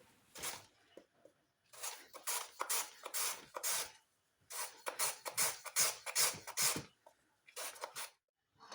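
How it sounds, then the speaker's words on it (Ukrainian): Two medium carrots are grated on a Korean carrot grater, in repeated bursts of rasping, scraping strokes with short pauses between, close and clear with no talking. "Далі беру дві середніх морквини та натираю їх на терці для моркви по-корейськи."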